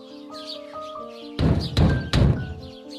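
Knocking on a door as a horror-film sound effect: three heavy, close thumps spaced about a third of a second apart, over a quiet bed of birdsong.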